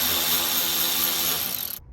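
A rapid mechanical whir comes from a tool backing out a 7 mm bolt in the dash of a 2002 Ford F-150, close and steady for nearly two seconds before cutting off sharply.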